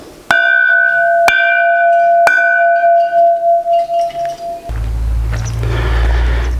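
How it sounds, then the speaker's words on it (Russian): Three sharp bell strikes ring out one after another about a second apart, each leaving a clear sustained tone that fades and wavers, marking the end of a museum tour at a narrow-gauge railway depot; a low rumbling noise follows. "3 удара колокола означают то, что наша небольшая экскурсия подошла к концу"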